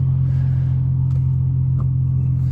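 A BMW 435i idles after a cold start, a loud, steady low drone held close, with a couple of faint clicks over the top.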